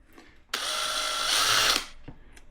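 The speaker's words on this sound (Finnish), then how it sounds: "helpoin tapa tehdä tuo merkintä on porata täältä sisäpuolelta pieni alkumerkki tonne keskelle" A power drill boring a small pilot mark from the inside, centred on a nut while fitting an OXA SpikePod to a Blaser R8 rifle; one steady high whine lasting about a second, near and loud, then stopping.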